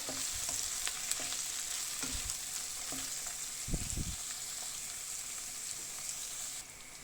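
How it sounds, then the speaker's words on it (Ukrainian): Onion frying with bell pepper in a pan for stewed cabbage, a steady close sizzle with a few stirring scrapes and soft knocks, slightly quieter at the very end. "І хай трошечки чуть-чуть цибуля всмажиться тут перцем."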